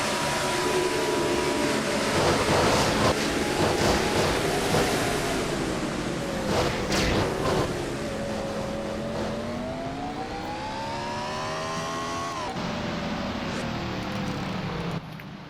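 Onboard in-car sound from a racing car at Eldora during the NNSCRA Outlaw Nationals: a loud, continuous engine roar with rising and falling revs through the laps, heavy wind buffeting over the microphone, and no voices.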